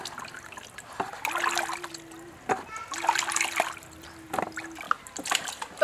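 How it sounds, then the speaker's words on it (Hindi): Potatoes with soil still on them are rinsed by hand in water in a home kitchen, giving irregular splashing and trickling sounds at close range, with brief knocks and a steady tone in the background. "तो आलू को दो तीन पानी धोएंगे, मिट्टी लगी हुई है।"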